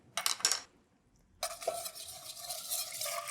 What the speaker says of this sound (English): And then whisk in your liquids